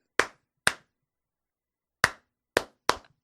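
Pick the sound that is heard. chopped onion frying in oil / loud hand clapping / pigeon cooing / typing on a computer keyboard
loud hand clapping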